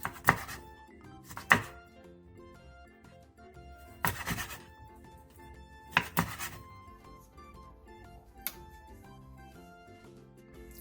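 Knife cutting a squid body into rings on a cutting board, a handful of sharp, separate chops at uneven intervals, close and clear over quiet background.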